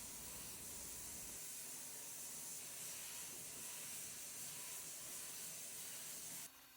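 A sprayer applying tinted top coat to small vintage nightstands gives a steady, close airy hiss that runs unbroken for several seconds and cuts off sharply near the end, with no talk.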